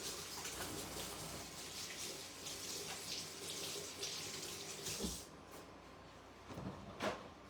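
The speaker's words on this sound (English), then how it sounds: "let me get my hands washed" Running tap water pours into a sink while hands are washed, a steady close splashing wash that breaks off near the end into a few separate drips and small knocks.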